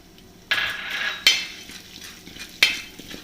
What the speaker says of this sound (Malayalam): നമുക്ക് ഈ നെയ്യ് തന്നെ നമ്മളെടുത്ത് വെച്ചിരിക്കുന്ന ജൗവരി ഒന്ന് ചെറുതായിട്ടൊന്ന് മൂപ്പിച്ചെടുക്കാം.